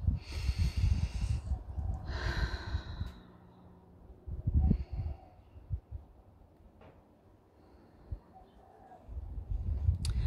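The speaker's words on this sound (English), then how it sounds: "let's just take a couple of big deep breaths together." Slow, deep breaths during a guided calming exercise: a few loud, airy inhales and exhales, close to the microphone, with quiet pauses between them and no talking.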